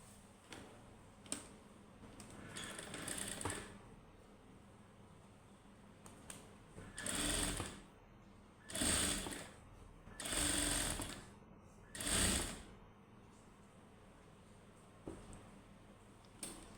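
A sewing machine stitches a fabric piece in four short bursts of rapid mechanical clatter, separated by quieter pauses with faint handling sounds, all fairly quiet.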